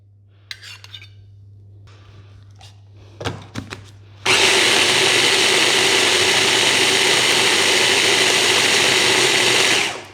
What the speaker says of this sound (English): So I've blended it a little bit longer this time, but if you blend it too much, it will become watery